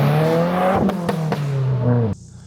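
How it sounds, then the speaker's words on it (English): A revving stock exhaust on a VB Subaru WRX drones and falls in pitch, punctuated by a few sharp crackling pops before cutting off abruptly. "all those pops and amazing exhaust noise straight stock from factory"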